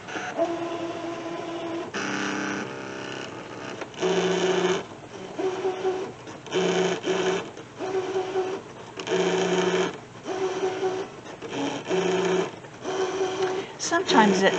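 A fabric cutting machine fitted with a fabric blade cuts through cloth while making a tassel, giving repeated mechanical whirring bursts of a second or so with short pauses between them, close and fairly loud.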